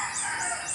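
Laying hens in a backyard flock, with chicks nearby, give high, drawn-out calls, repeated about three times in a short burst over faint background noise.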